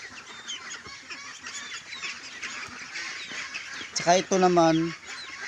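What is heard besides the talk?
chickens clucking while being fed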